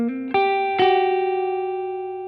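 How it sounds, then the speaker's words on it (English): Distorted electric guitar from the main solo plays a lower note, then two notes struck together, ringing out loud and sustained with a slight wavering decay, no voices. "try striking both notes together at the end of the phrase like this"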